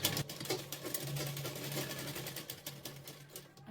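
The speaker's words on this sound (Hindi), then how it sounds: "यहाँ पर सिलाई लगाएंगे" A sewing machine runs continuously while stitching a blouse seam, a close, steady mechanical whirr with a rapid rhythmic ticking of the needle throughout.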